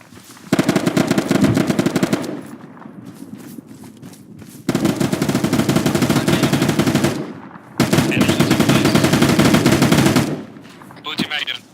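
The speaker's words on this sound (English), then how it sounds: "they're putting shots on me" Bursts of automatic gunfire ring out in Arma 3, three long, loud rapid-fire strings separated by short pauses, with a little distant noise between them.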